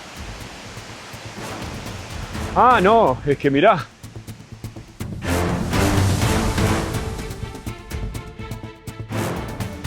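A roughly eight-metre waterfall pours hard, a broad steady roar of rushing water under and between bursts of nearby talk.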